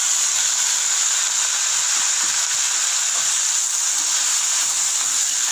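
Steady bright sizzle of finely chopped tomatoes sautéing in a pan on the stove for fish kuzhambu, a constant loud hiss without pauses or voices.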